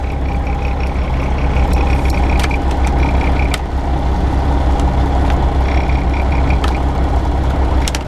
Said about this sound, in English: you guys hear that rattling again?